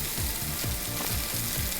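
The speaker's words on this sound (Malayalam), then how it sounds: "5 മീഡിയം സൈസ് സവാള നമ്മൾ മുഴുവൻ വറുത്തെടുക്കാൻ പോകാം" Sliced onions, five medium ones, frying in coconut oil for prawn biryani, an even, dense sizzle with soft sweeping stirs underneath, close by and free of speech.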